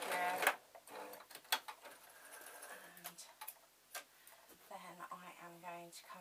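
A double-needle sewing machine reverses over the first stitches on a sarong strap, producing a quick run of mechanical ticking bursts with pauses, close and fairly quiet, with a brief stretch of voice-like tones.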